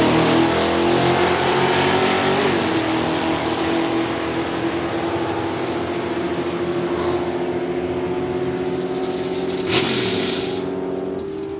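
Ford Mustang drag racing car at an NHRA Division 3 event, its engine roaring loudly and steadily close by as it launches, with a rising pitch and a brief bang near the end.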